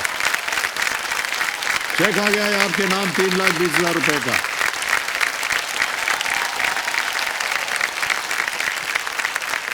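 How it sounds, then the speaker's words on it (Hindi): Studio audience clapping steadily throughout a TV quiz show while someone speaks over the applause, which stays dense and even across the whole stretch. "जोरदार तालियां बजती रहनी"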